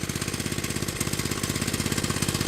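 The small engine of a 1970 Rupp Roadster minibike runs close by with a steady, fast, chugging pulse and a buzzy exhaust, heard alone.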